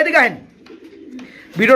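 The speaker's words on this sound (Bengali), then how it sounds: "কবুতর" Pigeons in a bird market coo at close range. Two throaty, rolling coos sit at the start and end, with a quiet gap between them.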